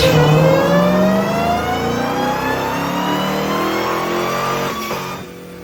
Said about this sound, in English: that was a hot pull, and that was done in 6th gear